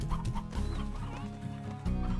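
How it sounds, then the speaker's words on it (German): Stone chickens cluck repeatedly in the video game Slime Rancher, a busy flock of clucks and squawks sounding loud and close over game background sound. "Guck mal, da mache ich die Steinhühner hier."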